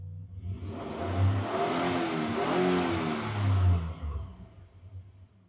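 A newly installed engine in a Hyundai Starex revs up loudly in two strong surges, holding a steady roar between them before easing back to idle, close and without voices.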